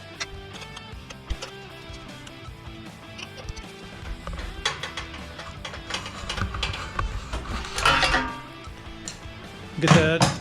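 A clamp being tightened on the cable of a long-tail mud motor on a duck boat, with close ratcheting, clicking and metallic rattles that build to louder clanks near the end.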